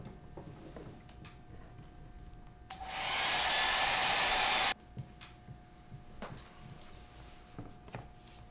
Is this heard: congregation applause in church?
no